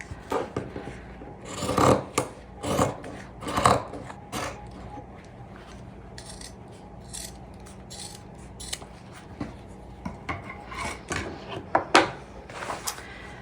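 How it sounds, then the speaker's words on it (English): Scissors snip through the fabric hem of an apron in a quick run of crisp, close cuts, pausing briefly and then resuming with lighter snips and rustling cloth. "I need to cut this last hem off"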